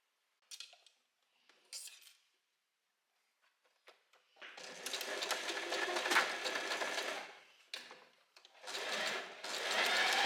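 A sewing machine stitches lace onto a top in several bursts of fast whirring separated by pauses, with faint handling clicks between runs.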